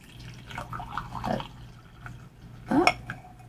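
Steeped tea is poured into a cup in a quiet room, a soft trickle with light splashes and a brief louder clink or splash near the end.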